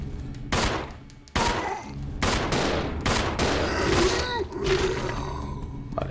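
Several sharp pistol gunshots crack in quick succession, loud and close, amid game sound effects and a faint voice in Resident Evil 0 HD Remaster.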